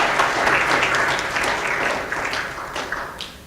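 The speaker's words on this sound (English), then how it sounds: "let's give a big round of applause to Asif and the rest of the people doing a great job" Audience at a philanthropy speech breaks into applause, a dense, loud wash of clapping that holds steady before gradually thinning out.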